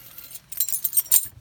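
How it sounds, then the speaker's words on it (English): Metal car key jangles and clinks as it slides into the ignition of a 2011 Ford Mustang, a few light rattling bursts close by with no talking. "Now what we can do is we can put this key inside."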